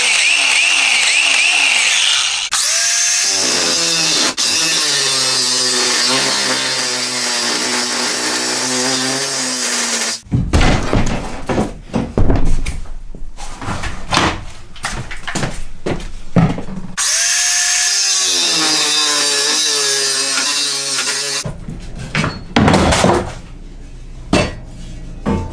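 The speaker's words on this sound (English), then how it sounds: "Multi-tool and grinder are next." A multi-tool and an angle grinder cut off screws during a camper build, loud whining bursts with rising and falling pitch alternating with harsh, gritty cutting and clattering metal, several distinct runs stopping and starting across the stretch.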